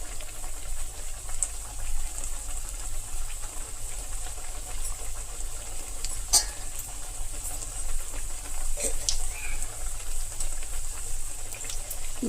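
Pakodi balls frying in hot oil, a steady, close hiss of bubbling with a few brief clicks and pops.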